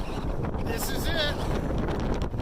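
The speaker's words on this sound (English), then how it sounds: "Highest point. Windy as hell." Strong wind buffeting the microphone on the summit of Mt. Whitney, a constant roaring rumble throughout with people talking faintly under it.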